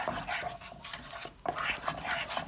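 Fish curry masala for a coconut-free surmai curry being stirred in a pan, quiet scraping strokes of a spoon against metal with faint sizzling, repeated in short bursts.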